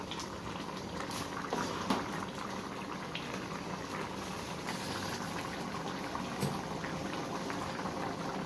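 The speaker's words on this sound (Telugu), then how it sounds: "ఉడుకుతుంది చూడండి ఫ్రెండ్స్" Moong dal khichdi bubbles steadily in a pot, a continuous close boil with dense popping and gurgling and no voices over it.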